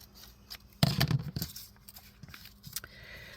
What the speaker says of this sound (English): Okay, so I'm going to cut this here.